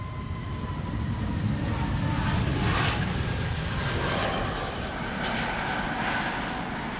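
Steady broadband roar of a Sky Express passenger jet's engines on the runway at Amsterdam Schiphol Airport, loud and continuous with a slight swell midway, no voices.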